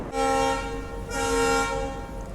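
A train horn blares twice, loud and sustained, as a train departs Kulem railway station in Goa, the second blast following about a second after the first.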